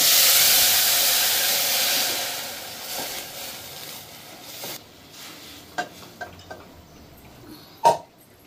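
Drumstick-leaf rasam is poured into a hot tempering with a loud burst of sizzle and hiss that fades over a few seconds, followed by scattered clinks of a spoon stirring against the pot.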